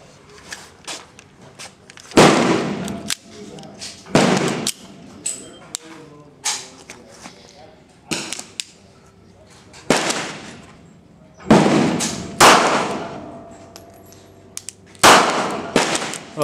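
Sharp, loud gunshots from a Smith & Wesson BG380 Bodyguard .380 ACP pocket pistol, several single reports spaced a few seconds apart on an outdoor range, each with a short decaying echo and faint handling noise between shots.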